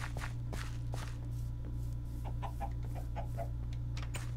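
Chickens in a Minecraft-style game cluck in short, faint bursts over a low steady hum, with soft footstep-like taps scattered throughout.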